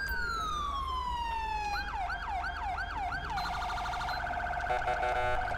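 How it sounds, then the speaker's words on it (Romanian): A police car siren in GTA 5 on a Los Angeles-style police patrol, a long descending wail that turns into fast repeated yelps, steady and loud with nothing else over it. "sirenele."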